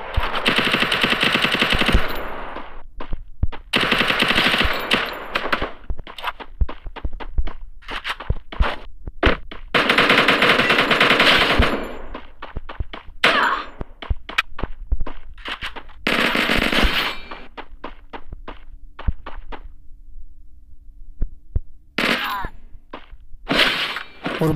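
Small gun firing in Free Fire Max, loud bursts of rapid shots in repeated volleys with short gaps, sharp single cracks and clatter between them, filling the battle scene.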